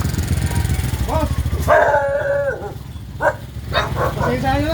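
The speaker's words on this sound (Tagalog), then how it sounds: "May aso eh." A dog barks outdoors during a tropical storm relief handout, a few sharp yips and barks mixed in with people talking nearby.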